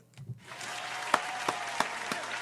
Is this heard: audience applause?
yes